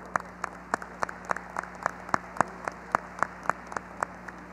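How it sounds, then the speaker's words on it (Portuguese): Sparse, rhythmic clapping at a steady pace, individual claps sharp and distinct, more like a few people applauding than a large crowd, at the opening of a Python and Plone conference. "eu queria aproveitar e pedir uma salva de palmas para ele"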